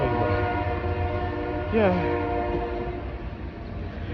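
A passing train sounds a horn with a brief blast in the middle over a constant loud rumble of rail noise, while a voice says a word.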